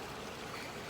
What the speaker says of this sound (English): listening to the water hitting the rocks in the creek